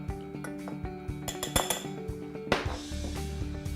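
A utensil stirs a dry flour, salt and pepper dredge in a bowl, giving quick clinks and scrapes against the bowl in an uneven rhythm, close up and fairly quiet.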